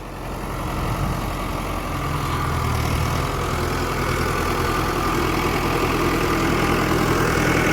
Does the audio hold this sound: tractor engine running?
yes